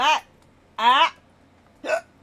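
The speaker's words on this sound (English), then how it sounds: "I have the hiccups." A person hiccups three times, each a short, sharp voiced gulp spaced roughly a second apart, close and clear against a quiet room.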